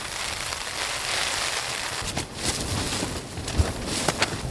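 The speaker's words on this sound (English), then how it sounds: "Woken up to the sound of the rain, but I actually love the sound of the rain." Rain falls steadily on a tent while camping on the Cornish coast. A close, even hiss of patter carries a few louder drops and gusts near the end.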